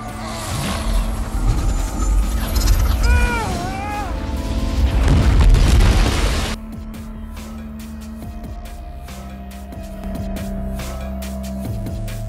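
An explosion in a Marvel Civil War film scene brings loud booming blasts and crashing debris along with a rising whine, then gives way to quieter rumbling and scattered noise.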